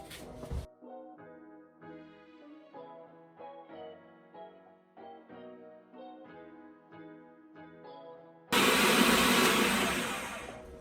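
A loud, steady whirring food processor motor roars in near the end after several seconds of plucked melodic tones, running continuously with a slight fade.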